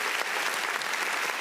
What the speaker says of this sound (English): let's go ahead and give Biden a round of applause to come into this